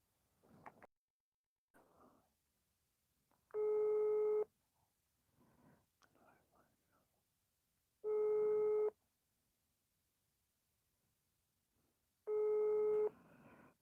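A telephone busy tone sounds while a call goes unanswered: three long steady beeping bursts evenly spaced, loud and clear, with quiet speech and small noises in the gaps between them.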